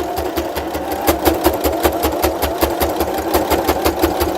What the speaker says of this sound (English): Start a bit from the top so you can do a couple of back stitches.